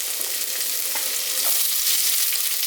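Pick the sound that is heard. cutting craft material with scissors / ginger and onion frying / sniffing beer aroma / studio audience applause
ginger and onion frying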